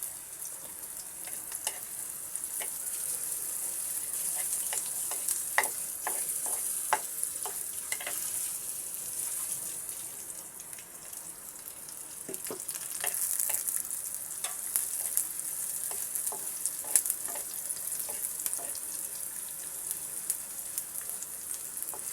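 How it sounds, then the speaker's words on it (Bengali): Chopped onion and garlic frying in oil in a pan, a constant bright crackling sizzle with scattered pops and occasional stirring scrapes, close and even throughout, with no talking. "পেঁয়াজ এবং রসুন কুচিটাকে আমি এখানে ভেজে নেব।"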